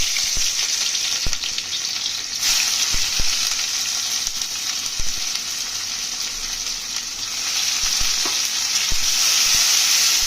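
Onions frying in hot oil in a wok (kadai) for a Bangladeshi rohu fish dish, a steady loud sizzle running throughout with scattered clinks and stirring knocks, no talk.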